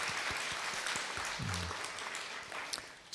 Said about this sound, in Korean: 축하의 박수 하겠습니다